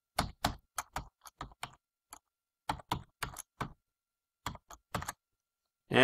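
Characters tapped out on a computer keyboard in short irregular bursts of crisp key clicks, separated by brief silent pauses, close and fairly quiet.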